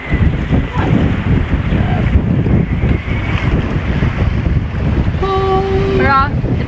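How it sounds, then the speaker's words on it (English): Strong wind roaring across the microphone while sailing a boat under storm jib off a rugged coast, loud and constant with wave wash, a brief whistling tone near the end and some speech underneath. "There's so much wind."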